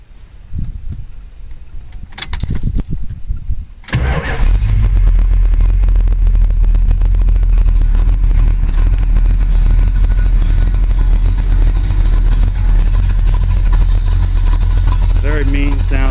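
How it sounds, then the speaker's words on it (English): A 1970 Plymouth GTX engine cranks briefly, then fires and settles into a loud, steady, rumbling idle that continues close by to the end. "Very mean sounding machine."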